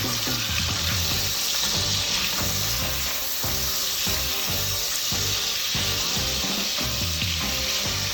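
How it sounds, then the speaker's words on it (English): Turkey bacon sears in a hot pan with a loud, steady sizzle and crackle throughout, mixed with light clatter and the sound of running water near a sink, with no talking. "I'm searing the bacon."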